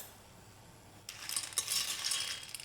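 Dry pasta toasting in a hot, dry pot, giving a soft hiss and faint crackle that starts partway through and continues steadily to the end, with no talking.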